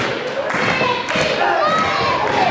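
A knee strike landing in a Survival of The Fullest fight, a heavy thud among a busy, noisy crowd with other impacts and shouting around it.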